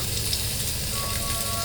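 Food frying in a small pan, a steady dense sizzle and crackle filling the short stretch without pause, close and fairly loud, with no talk.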